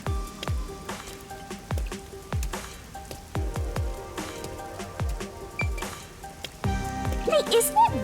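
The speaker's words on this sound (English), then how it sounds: "Hey, isn't it weird how it's not flooded, given how it's always raining here?" Constant rain falling over a city in the video game Rain Code, soft steady patter with scattered dripping plinks and splashes, faint and close, with a voice speaking partway through.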